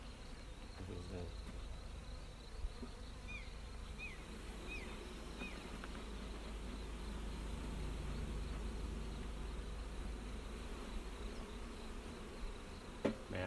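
A honeybee hive that has just been smoked gives off a dense, steady buzzing drone, close and continuous, with a few brief louder bumps and no talk over it.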